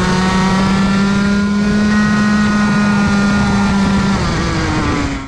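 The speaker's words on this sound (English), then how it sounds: "You could literally hear that the revs dropped" A small kart engine drones at high revs at full throttle with a steady buzzing tone, then the pitch drops noticeably toward the end, close and loud.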